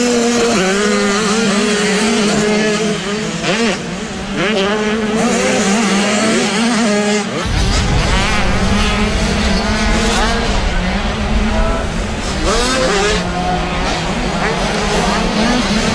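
Small-wheel 85cc motocross bikes race a British Championship round at Whitby, with engines whining and revving continuously, a louder pass building in the second half, while a commentator talks over the track noise.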